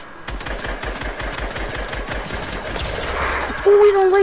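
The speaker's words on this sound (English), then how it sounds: "Who is shooting me?" Rapid automatic gunfire in a video game squad match, a steady stream of close, sharp bursts running throughout while a voice talks over it, ending in a rising electronic tone.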